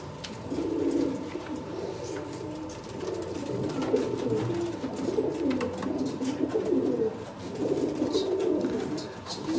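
Sialkoti pigeons coo softly in repeated, rolling bursts, several birds overlapping at close range against a quiet background.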